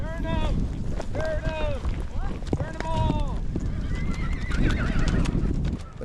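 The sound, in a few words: herd of horses being driven, neighing and hooves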